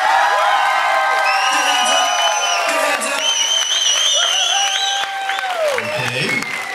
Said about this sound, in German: Und euer Applaus für Typhoon.